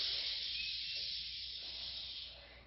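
A child-style exhaled hiss imitating an elephant spraying water from its trunk, a steady breathy rush lasting nearly three seconds, close and fairly even in strength, with no talking over it.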